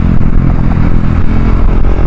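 A Husqvarna 701 single-cylinder motorcycle cruising at steady speed limit pace, a loud close engine drone with a dense low rumble and wind buffeting, steady throughout without revving.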